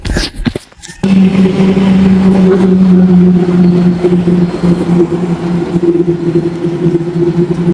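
Motor vehicles go by on a road beside a temple, a loud, steady engine drone that holds for several seconds after a brief burst of noise.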